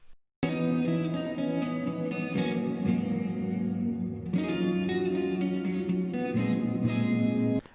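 A looped guitar phrase runs through vocoder effects, giving a processed, chorused and echoing tone with steady sustained harmonics that shift chords every few seconds, close and alone throughout.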